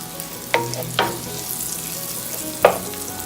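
Sun-dried tomatoes cook down in a pan with a close, steady sizzle, punctuated by three quick scrapes or taps of a utensil.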